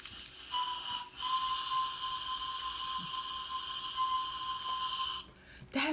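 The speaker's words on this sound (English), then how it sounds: "But I think it's a whistle." A small whistle from a snack box blown in two blasts: a brief toot, then a long steady shrill tone lasting about four seconds, close and loud, with faint handling noise.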